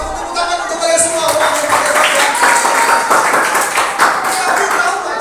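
Children clapping at the opening service of a church holiday Bible school camp, a lively, somewhat uneven burst of hand claps that runs throughout, with voices mixed in among the applause.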